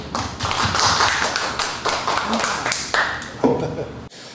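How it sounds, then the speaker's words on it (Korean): A seminar audience at a CEO academy lecture gives a short round of scattered applause to welcome a speaker. The claps are uneven and fairly close, thinning and stopping abruptly near the end. "우리 문성호 대표님 큰 박수로 맞이해 주시기 바랍니다"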